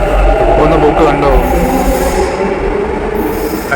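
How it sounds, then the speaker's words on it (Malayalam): A Bangalore metro train at Majestic station rolls through, a loud close rumble of wheels and carriages with a rising squeal and hum, and a voice talks over it. "ഒരു പ്രത്യേക മ്യൂസിക്കൽ സൗണ്ട് തന്നെയാണ്. മെട്രോ ആണ്."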